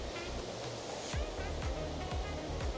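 Continuous rushing water roars steadily in the background, with a few low thumps underneath.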